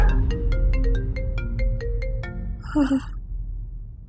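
A phone ringtone plays a bright, repeating melodic tune of evenly spaced tones for about three seconds in a domestic home scene, ending in a short burst, with faint room noise beneath.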